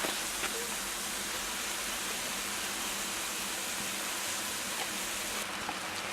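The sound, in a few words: mushrooms sizzling in a hot pan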